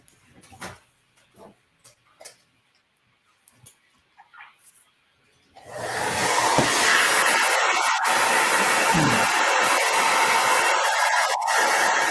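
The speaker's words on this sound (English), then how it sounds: "Let me take my blow dryer to this one more time." A handheld blow dryer is aimed at fresh paint on a Jack and Sally Halloween painting, switching on after some quiet handling noises into a loud, steady close whoosh that runs to the end.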